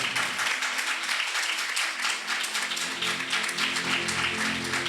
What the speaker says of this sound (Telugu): చప్పట్లు బిగ్గర కొడదాం.